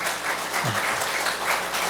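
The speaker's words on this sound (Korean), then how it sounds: "함께 박수하겠습니다" Congregation at a Sunday church service applauds a visiting elder, a continuous close wash of clapping hands throughout, steady and fairly loud with no voices over it.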